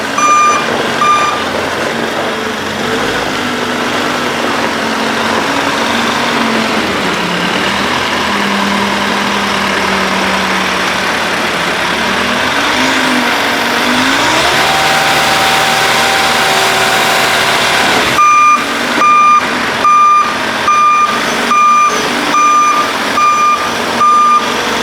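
A lorry being loaded in a farm yard reverses with a steady run of loud, evenly spaced beeps over its diesel engine idling and revving nearby, the beeping starting partway through and continuing to the end.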